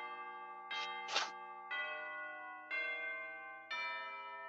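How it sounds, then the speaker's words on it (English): A school recess bell rings in a series of clear, resonant electronic chime tones, sounding faintly at a distance with short gaps between strikes. "Oh, that's the recess bell."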